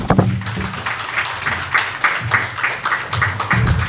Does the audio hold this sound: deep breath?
no